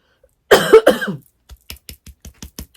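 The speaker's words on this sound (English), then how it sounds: "A little coughing going on there." A burst of two harsh coughs, followed by a quick series of short, soft coughs or throat-clearing sounds, close by with no talking.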